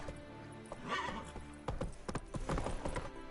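Horse hooves clip-clop in an uneven rhythm as a horse whinnies, fairly close and moderately loud with no talk over them.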